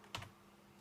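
A single short clack of typing on a Razer computer keyboard, close and crisp, then quiet room tone.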